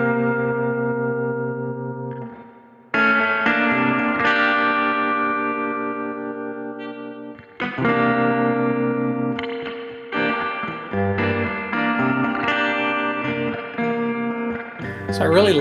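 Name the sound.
electric guitar with drive, tape delay, tremolo, reverb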